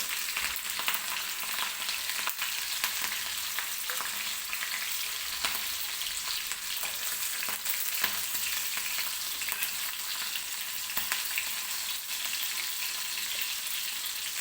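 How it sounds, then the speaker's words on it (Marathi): Garlic and green chilies fry in a pan with a steady, dense sizzle that holds at an even level throughout, with occasional small crackles and no talking. "मिरची आणि लसूण व्यवस्थित भाजून घ्यायची आपल्याला"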